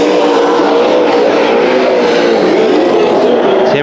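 Street stock race cars roar around Bakersfield Speedway in a heat race, engines droning loud and steady with wavering pitch as the pack runs laps.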